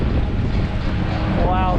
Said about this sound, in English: Oh, it's very windy up here.